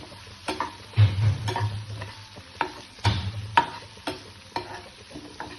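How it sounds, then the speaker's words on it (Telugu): Potatoes fry with spices in a pan while a utensil stirs and scrapes them, giving irregular clanks and scrapes over a soft, steady sizzle. "ఇప్పుడు ఈ మసాలాస్ అన్ని వేసిన పెనంలోకి మనము ఈ ఆలుని వేద్దాం. ఇలా ఉన్న దాన్ని బాగా మిక్స్ చేసుకుందాం."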